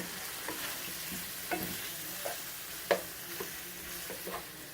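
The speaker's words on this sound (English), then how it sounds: "Alright, so we are cooking our shrimp." Shrimp cooking in melted butter with garlic in a pan, a faint steady sizzle with a few soft scattered stirring taps, heard quietly up close.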